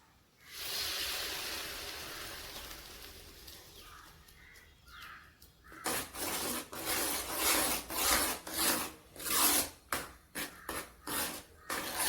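A spoon scrapes and stirs mashed pumpkin with ghee in a pan. It starts as a soft, steady rubbing and then turns into a run of brisk, rhythmic scraping strokes close to the microphone, with no talk.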